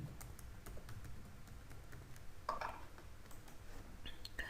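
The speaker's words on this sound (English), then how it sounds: "Let's say I'm typing test@1234" Rapid, light keystrokes on a computer keyboard as a password is typed, close and quiet, in an uneven burst of clicks with one slightly heavier key press midway.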